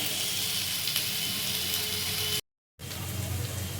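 Carrot, capsicum and beans for fried rice fry in a pan, a soft, even sizzling hiss that holds steady, cuts out to brief silence, then resumes, with no talking.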